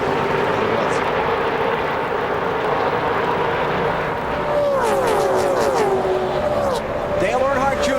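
NASCAR Busch Series race cars circle Daytona in a pack, a steady loud roar of engines with several cars sweeping past near the end, pitch sliding downward, while a commentator talks over it.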